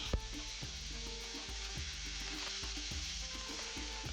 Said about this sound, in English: in a skillet add the olive oil and onions and saute over high heat until they become translucent